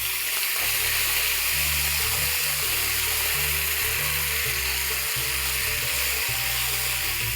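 Tempering for Hyderabadi dal hisses steadily as cumin, mustard seeds, curry leaves, whole red chillies and ginger-garlic paste fry in hot ghee or oil, a continuous close sizzle with no talking.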